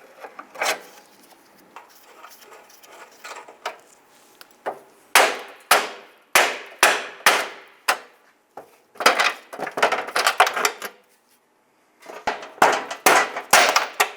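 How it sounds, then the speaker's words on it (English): Pliers work retaining lock stars off a front bumper bracket on a 2002-2008 Dodge Ram 1500, giving a series of sharp metallic clicks and snaps, some quick bursts, close and clear with pauses between, no voices. "Just going to use our pliers here and remove these"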